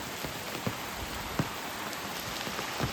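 Heavy monsoon rain in a village, a dense steady hiss of falling water with scattered close drips and patters standing out, no voices.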